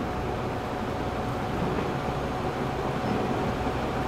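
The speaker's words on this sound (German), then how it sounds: "ich finde das klasse hier, wenn so viele Züge fahren" Trains run in the video game Transport Fever 2, giving a steady, dense rumbling wash of rail noise with no distinct events, even in level throughout.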